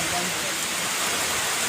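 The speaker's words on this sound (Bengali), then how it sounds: "টানা 3 দিন বৃষ্টি হচ্ছে।" Steady rain pours down during a flood in Lakshmipur, Bangladesh, after three days of continuous rainfall, a dense even hiss filling the whole stretch with no breaks.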